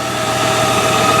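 A Range Rover engine under repair runs at a steady idle, a close, even mechanical hum with a faint high whine, continuous and without speech.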